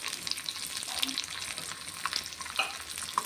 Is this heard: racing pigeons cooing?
no